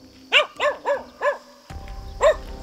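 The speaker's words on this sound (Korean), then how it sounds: "하지만 더 이상 다가오지 말라는 듯 짖던 녀석은" A stray dog, apparently in poor condition, barks five times in a short uneven series at moderate distance, with a low rumbling background entering before the last bark.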